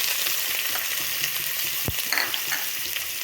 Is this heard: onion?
yes